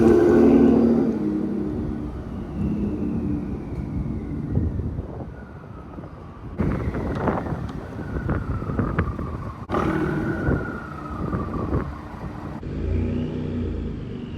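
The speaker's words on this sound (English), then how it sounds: "I love the turbo whistle." Ford F-150 pickup with the 3.5 EcoBoost turbo engine, lightly accelerating: a steady engine rumble with a rising then falling turbo whistle that returns in several waves over the run.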